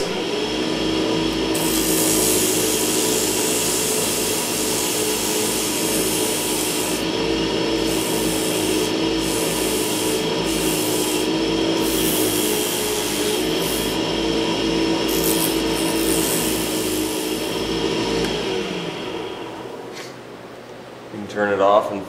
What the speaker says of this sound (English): I like to use a sponge sander because it will form to any shape that you put it in contact with.